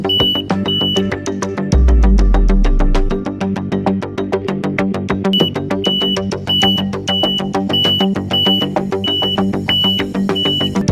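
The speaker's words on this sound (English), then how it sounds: "the generated alarm activates the alarm unit" A radiation portal monitor alarm beeps loudly in a rapid, steady repeating pattern with high pitched electronic tones, continuing throughout, with a low rumbling hum briefly underneath.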